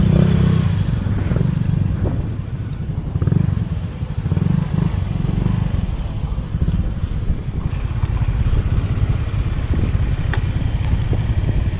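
A rider's own motorcycle running steadily on an island road in Luzon, a continuous loud engine drone with wind buffeting the microphone and occasional rattles, no talking.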